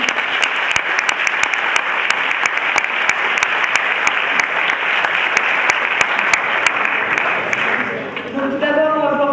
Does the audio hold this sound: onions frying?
no